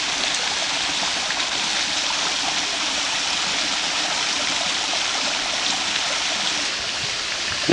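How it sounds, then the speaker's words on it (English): Steady, dense rush of Hickory Nut Falls at Chimney Rock Park, a waterfall roaring continuously and close by with no pauses or voices. "Hickory Nut Falls itself on the other side of the barrier fence"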